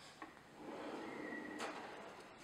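Pull-out kitchen drawer holding trash and recycle bins in a modern farmhouse kitchen, sliding open or shut with a smooth rolling rush and a soft knock at the end, fairly quiet and close, no talking.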